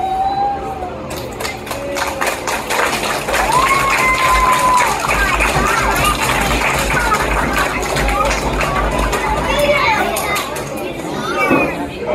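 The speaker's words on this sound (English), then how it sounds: "Alligator, some applause." Audience applause and cheering from a crowd at an alligator show during an Everglades airboat ride, a steady dense wash of clapping mixed with chatter, children's voices and whistles, lasting throughout.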